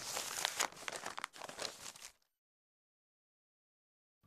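Paper notes are crumpled and handled in an animated children's cartoon, a close, busy crinkling for about two seconds that then stops dead into silence.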